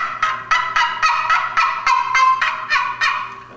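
A handmade wooden turkey call gives about ten evenly spaced, loud, nasal yelps that imitate a turkey, each a short honking burst, close up and alone.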